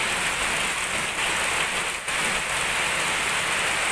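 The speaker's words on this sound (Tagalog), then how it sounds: "Malakas sa pag-ulan." Heavy rain from Typhoon Ulysses pours steadily with a dense, hissing roar and no voices.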